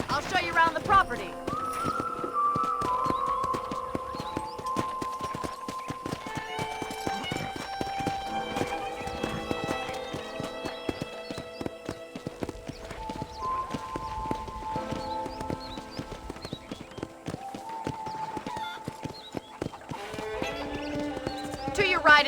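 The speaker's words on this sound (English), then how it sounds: "I picked out a fine horse for you." Horse hooves clip-clopping steadily on a ranch property in the video game Red Dead Redemption, with an occasional whinny, set under a continuous musical score and intermittent talk.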